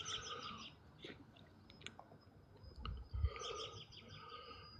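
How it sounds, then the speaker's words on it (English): Birds chirp and sing in short bursts at a moderate distance, with a few faint low thumps underneath. "hear the sounds of the birds, hear the song"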